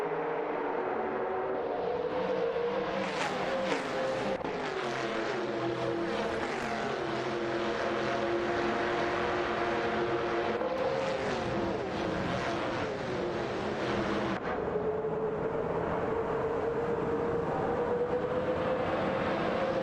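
Engines of race cars in a video game race drone and whine continuously, pitches sliding up and down as cars pass, a loud layered mechanical hum with no talk.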